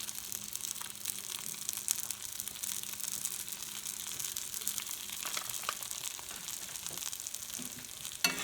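Vegetables fry with fajita seasoning in a pan, making a dense, continuous hiss with occasional soft scraping as they are stirred, steady throughout and ending with a brief clatter.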